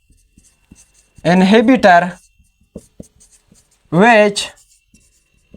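Marker or chalk writing on a board during a lecture on enzyme inhibitors: faint scratches and light taps fall in the pauses between two bursts of a man's speech.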